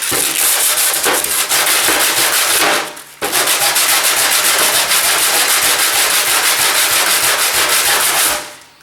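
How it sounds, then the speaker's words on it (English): Close, loud sanding of the edges of a rusted knife blade, a harsh continuous scraping in two long strokes separated by a brief pause, with no voices. "I like to sand the edges like that, and I also like to sand it this way."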